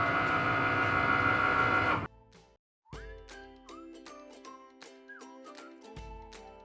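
A Cricut Maker cutting machine runs for a couple of seconds with a steady mechanical whir. It then stops, and a soft, bright electronic chime follows.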